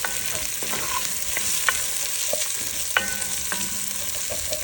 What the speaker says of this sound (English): We're just going to add our onions and celery and garlic.